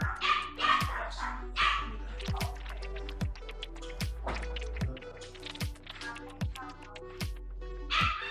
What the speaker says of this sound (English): I got this chorus of dogs.